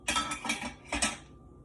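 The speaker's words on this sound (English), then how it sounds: "And I'm just going to start putting my dishes." Dishes and cutlery clatter close up as they are set out in a kitchen while fruit is juiced, with three bursts of clinking and rattling and then quiet.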